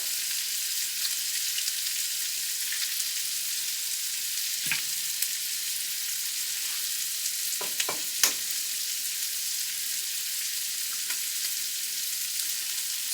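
Steak browning in a pan with butter during a stir-fry, a steady soft sizzle and crackle at low level, broken by a few brief knocks and clinks of stirring, no voices.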